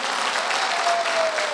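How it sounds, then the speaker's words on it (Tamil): An audience at an entrepreneurship talk in Tiruppur breaks into steady, loud applause. The dense clapping fills the hall evenly throughout, with no voices on top. "அப்போ ஒரு கைத்தட்டல் கூடி கொடுங்க எல்லோருக்கும்"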